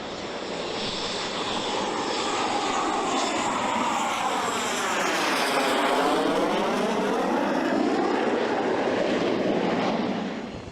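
Northrop Grumman X-47B unmanned combat drone, a carrier-based jet aircraft, roaring steadily and loud throughout with a sweeping pitch shift as it passes close by, then fading slightly at the end.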